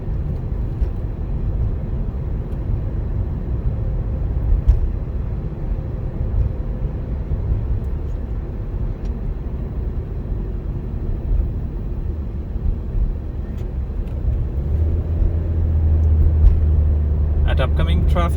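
A car driving steadily at about 50 on a road, a continuous low rumble of engine and tyres throughout, with a voice talking over it and a slight rise near the end.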